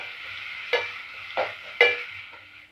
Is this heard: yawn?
no